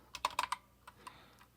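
Several quick keystrokes on a computer keyboard, a burst of close clicks followed by a few sparser taps, fairly faint, with no talking.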